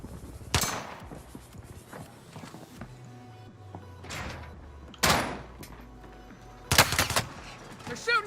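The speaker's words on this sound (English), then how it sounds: "They're shooting at me!" Gunfire in the GTA video game: sharp, loud shots at irregular intervals, a few isolated cracks and a tight double burst near the end, over a low rumbling game background.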